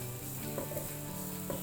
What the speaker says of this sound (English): meanwhile I've fried off the onion, garlic and ginger for about a minute